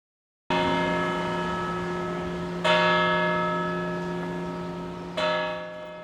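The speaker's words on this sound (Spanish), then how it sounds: "el repique de las campanas convoca a los pobladores a reunirse" Church bells ring out on a Sunday morning in Pilsen, calling residents together: three loud, resonant strokes a few seconds apart, each ringing on and slowly fading, with no other sound.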